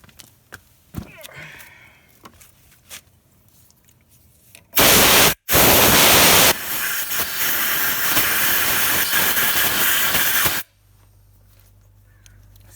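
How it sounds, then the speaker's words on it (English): Compressed air from a compressor blasts through a Honda NHX110 motorcycle brake caliper, two loud hissing bursts, a short one followed by a longer sustained blast, preceded by quiet clicks and handling sounds. "I'm gonna blow it all out. Oops. And turn on my air compressor."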